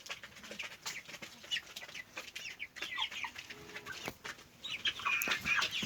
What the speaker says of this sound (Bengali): এটা হলো আমাদের মুরগির ঘর